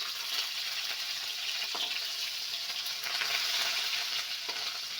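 Ginger and curry leaves sizzle steadily in a little hot oil, a continuous close frying hiss with faint scattered crackles and no talk.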